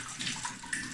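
Liquid draining from a copper still after distilling, a continuous close splashing gush of running liquid with no talking.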